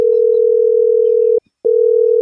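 A loud, steady telephone tone hums while a call is being placed, holding one pitch, breaking off briefly near the middle and then resuming.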